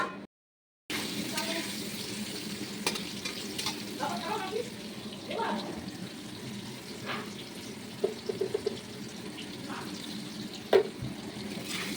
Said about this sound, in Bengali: চিমনি চলছে তো চিমনির একটু আওয়াজ হচ্ছে